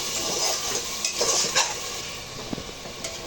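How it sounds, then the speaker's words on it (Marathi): Tomato paste masala for veg pulao sautés in a pan, with a steady sizzle broken by a few sharp scrapes and knocks of the stirring spoon, close up and with no voices. "टमाट्याची पेस्ट घातलेली आहे आणि याला पण चांगलं 2 मिनिटं परतून घेऊया"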